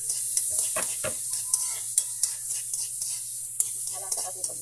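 Ginger sautés in margarine in a pan while being cooked for a mussel soup, a soft sizzle punctuated by regular scraping stirs and light utensil taps against the pan, close and fairly quiet.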